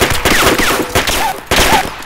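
Rapid bursts of automatic gunfire in the Arma 2 military game, loud and close, coming in several clusters of sharp cracks with short gaps between them.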